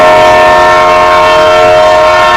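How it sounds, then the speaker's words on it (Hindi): A train drawing close, its horn blaring in a loud, sustained tonal blast over a rumbling undertone that fills the whole moment, very near and overpowering. "अरे ट्रेन तो बहुत करीब आ गई है"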